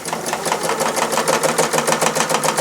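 A sewing machine stitching free-motion embroidery around lettering, running fast and steady with a rapid, even needle rhythm, close and loud, with no talking.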